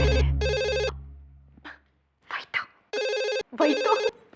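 A telephone rings in a domestic TV drama scene, loud electronic ring bursts repeating with short gaps, while people speak briefly in between.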